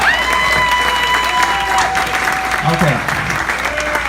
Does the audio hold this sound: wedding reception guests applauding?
yes